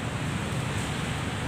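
Steady roaring wind of Typhoon Paeng gusting hard, a dense continuous rush of noise with no voices.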